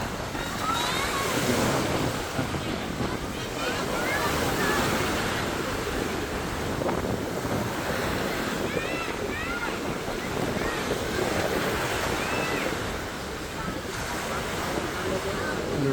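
Sea waves wash steadily onto Wong Amat Beach in Pattaya, a continuous rolling surf roar mixed with gusty wind buffeting the microphone, loud and unbroken throughout.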